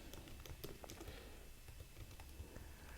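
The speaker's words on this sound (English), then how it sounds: "let me just type a simple message. Let me type a student name," Typing on a computer keyboard while entering a student's name into a school management system, quick, light clicking keystrokes in an irregular rhythm, fairly faint and close, with no talking.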